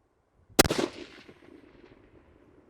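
A single sharp F-Class rifle shot cracks loudly at close range, then a rolling echo decays over the next second or two across an outdoor range.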